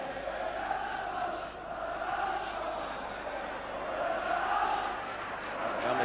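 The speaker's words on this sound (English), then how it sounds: "And a big crowd here this afternoon." A big football crowd at Tynecastle stadium in Edinburgh for a Hearts versus Celtic match murmurs and chants at a distance, a broad sustained roar that swells and eases over several seconds.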